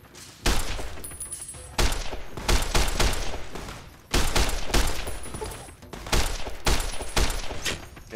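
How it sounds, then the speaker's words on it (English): Repeated service rifle gunfire in the video game Fallout New Vegas, with loud bursts of shots arriving in clusters over several seconds and short gaps between volleys. "why am I shooting the guy with the weapon who's in front of me?"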